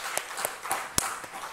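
Congregation in a church service clapping to welcome children, a sparse handful of separate claps at an irregular rhythm, fairly faint, with one sharper clap standing out near the middle.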